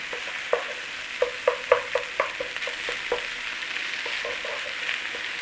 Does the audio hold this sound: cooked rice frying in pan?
yes